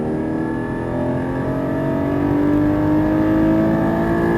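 A Porsche GT4 engine drones steadily and loudly on the Fontenay-le-Comte race circuit, its tone rising gradually as it accelerates, close and continuous with no pauses.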